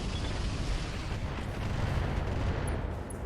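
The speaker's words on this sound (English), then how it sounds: "The long-range Centurion is going to position up over here and is also going to be firing on that Panther." A mech's weapons pour fire onto a Panther in RogueTech, a dense, continuous roar of overlapping blasts and rumbling impacts that stays loud and steady throughout, with no voices.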